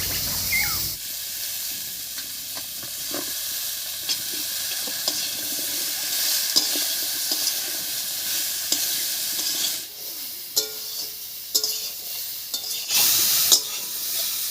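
Cauliflower frying in a pan with green chillies and flat beans added, a steady close sizzle with stirring scrapes throughout, a few sharper clinks and a louder burst of hiss near the end, no talking.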